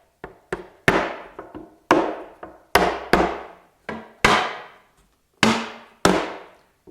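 A mallet knocks tight wooden finger-jointed box pieces together in about a dozen sharp, resonant thwacks, irregularly spaced, each ringing briefly before fading, with no talking.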